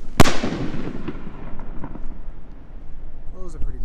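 A Sugar Skull 6 inch shell firework bursts with one loud sharp boom. Crackles and pops follow and fade over a few seconds, with voices in the background.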